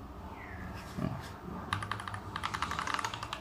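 Fingers type on a keyboard fitted with Super Mario PBT dye-sub Cherry-profile keycaps, a close, quick patter of thocky keystrokes, with a voice heard talking faintly at the start.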